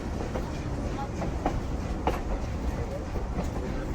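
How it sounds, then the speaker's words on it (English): K-37 class narrow gauge steam locomotive train on the Durango and Silverton railroad, heard as a steady rolling rumble with faint clicks of wheels on rail joints as it crawls slowly along. "The train slows to a crawl here,"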